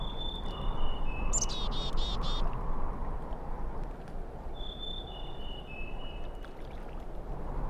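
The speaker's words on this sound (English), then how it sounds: "It is the sweet song of the Merula alba" A rare Merula alba bird from the game Syberia II sings clear high whistled phrases over a steady loud wash of ambient noise, with a brief cluster of squeaky calls early on.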